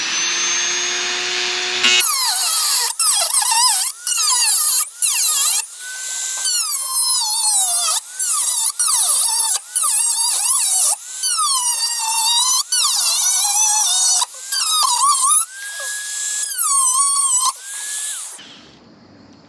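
A Dremel rotary tool trims a hole in a metal roof while a wood-burning stove is being installed, whining loudly in repeated bursts of about a second each with brief pauses between, its pitch rising and dipping as it bites into the metal.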